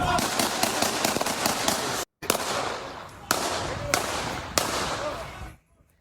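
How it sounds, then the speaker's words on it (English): Gunfire in a Walnut Park neighborhood caught on a cell phone: a rapid string of more than ten sharp, loud cracks, bunched tightly at first and then spaced out after a short gap. "in cell phone video obtained by NBC4, you can hear at least 10 gunshots fired in this neighborhood"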